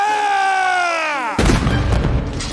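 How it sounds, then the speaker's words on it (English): A single heavy cannon blast fired to mark the hour cuts off a sustained musical chord, followed by a rumbling, crackling boom that fades only slightly. "He fires off a cannon to mark the hour."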